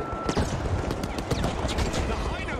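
Rapid automatic turret fire from the shooter game The Finals, a dense stream of sharp cracks and bursts filling the mix, with players talking over it.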